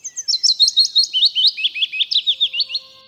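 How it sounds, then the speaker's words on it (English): A Willow Warbler sings a clear, close descending phrase of rapid sweet notes, about a dozen quick tweets in steady rhythm that fade at the end. "At number 10, Willow Warbler."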